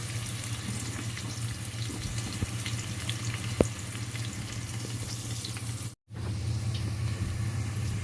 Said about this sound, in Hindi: तो हमारा अनियन इस तरह से फ्राई हो चुका है